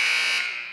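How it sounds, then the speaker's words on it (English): At a 7th-grade girls' basketball game, the game buzzer sounds in a single harsh, loud electronic blast lasting under a second before it fades. "And a little buzzer."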